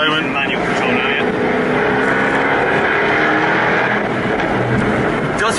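Jaguar F-Type sports car with eight-speed gearbox in manual mode, V6 or V8, heard from inside as a loud continuous engine drone that swells steadily, with occasional speech underneath.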